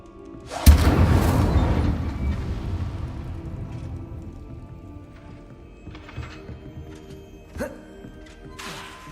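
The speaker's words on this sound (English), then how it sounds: "Incendio! Setting things ablaze is certainly cathartic, isn't it?" Incendio fire spell from Hogwarts Legacy igniting with a loud burst, then a sustained roaring whoosh of flames that slowly fades, with scattered thumps and crackles afterward.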